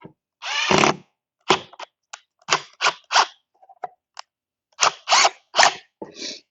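Short bursts of a cordless power drill driving screws into small metal inserts in a woodworking spline jig, about a dozen separate whirring pulses of varying length with quiet gaps between them, close and fairly loud.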